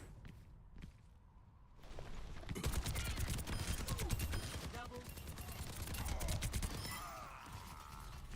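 Juno's gun in the video game Overwatch 2 fires rapid bursts of game gunfire, quiet at first and then dense and continuous, with mechanical clicks and whooshes mixed in.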